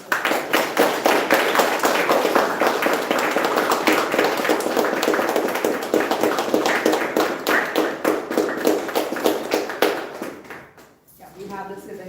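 Members at a Toastmasters club meeting clap in a sustained round of close, crisp applause lasting about ten seconds, then trail off into quiet.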